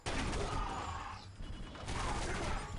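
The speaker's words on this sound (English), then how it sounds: "One of the soldiers is shooting at me with some energy weapon." Rapid energy-weapon fire from a soldier in the 2005 video game Area 51, a dense, sustained crackling barrage that stays loud for nearly three seconds with a brief dip in the middle.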